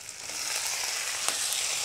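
Fish roe cooking with turmeric in a pan makes a constant, fairly quiet hiss of frying oil, with a faint stir or tap near the end.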